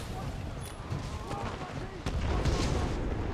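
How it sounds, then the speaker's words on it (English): Gunfire rattles and booms steadily in a Titanfall 2 multiplayer match, dense and loud throughout with a sharper burst near the two-second mark, while a voice talks over it. "Who's shooting at me?"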